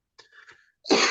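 A single loud, explosive human sneeze bursts out near the end, preceded by a quick sharp inhaled build-up.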